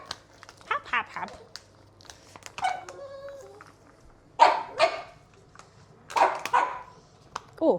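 A dog barks indoors in a self-catering lodge, sharp close barks in short bursts, mixed with crinkling packaging and someone talking nearby.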